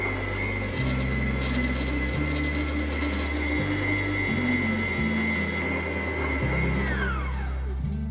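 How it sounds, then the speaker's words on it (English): An electric mixer hums steadily at low speed through cake batter, its motor pitch stepping slightly as the beaters work, with a sustained whine that slides down as it is switched off near the end. "And start at very low and mix it until it's incorporated properly."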